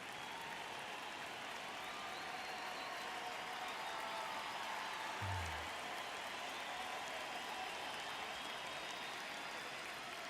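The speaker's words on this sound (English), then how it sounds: "I like how you can hear the crowd cheering" Crowd noise in the baseball video game MLB The Show 26, a faint, distant, steady stadium roar of cheering and clapping that holds evenly throughout, with no talk.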